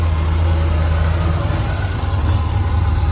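A race car with a swapped-in LS V8, an RX-7 in the paddock at a track day, idling with a deep, steady rumble close by, loud and even throughout with no talk.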